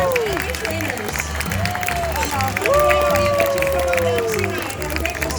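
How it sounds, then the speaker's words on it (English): Audience applause and cheering at the end of the Animal Actors show at Universal Studios Hollywood, a steady crowd of clapping filling the venue while a voice speaks over a loudspeaker above it. "How about a big round of applause for our animal stars and our trainers?"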